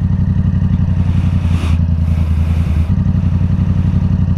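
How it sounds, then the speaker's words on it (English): A Yamaha R7 motorcycle fitted with a Yoshimura AT2 full stainless steel exhaust idles loud and close with a deep, steady burble, briefly shifting pitch in a short blip midway before settling back to idle. "it is the Yoshimura AT2 full stainless steel exhaust"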